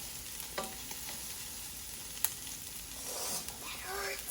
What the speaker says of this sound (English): Now always keep your spoon pointed down when you stir this.